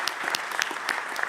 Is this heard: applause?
yes